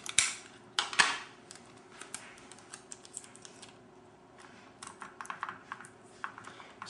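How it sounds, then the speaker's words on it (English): Regular Scotch tape pulled and pressed onto the buttons of an Xbox 360 controller, with sharp close tearing rips at the start followed by a run of small crackles and taps. "So I'm just taping the buttons to the controller."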